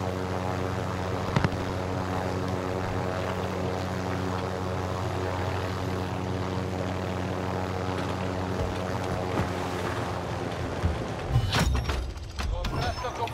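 Helicopter rotor and engine drone in the game Call of Duty Warzone, a steady loud droning hum that swells and breaks up into scattered bangs near the end.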